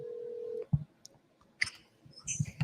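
A telephone dialing a call: a steady tone cuts off, then scattered clicks and short electronic beeps follow at uneven intervals, faint and close, with no talking.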